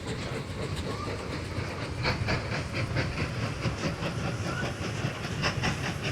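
A three-carriage train crosses a bridge in the video game Mashinky, a steady loud rumble with rhythmic clickety-clack and faint hiss that runs through the whole stretch.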